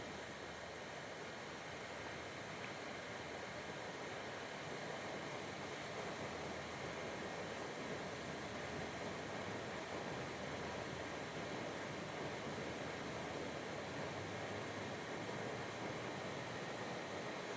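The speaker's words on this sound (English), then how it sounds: "now I'm just flushing the RO" Water flushes through a 5-stage reverse osmosis filter system as a steady, even rushing hiss that stays constant throughout with no talking.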